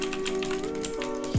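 Rapid clicky keystrokes on an Amazon Basics gaming keyboard, a quick burst of close, crisp taps over a faint steady hum.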